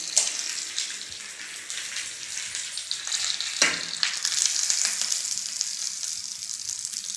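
Hot tempering of urad dal and curry leaves in oil is poured into chutney, giving a steady loud sizzle with crackles that runs the whole time, a brief louder burst midway, and no voices.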